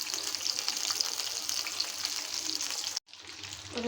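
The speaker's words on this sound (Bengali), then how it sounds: "এগুলো ভাজা দেখেন পটল দিয়ে মুরগির মাংসের বড়া" Chicken and pointed gourd fritters frying in hot oil give a steady close sizzle and crackle that cuts off abruptly near the end before resuming faintly.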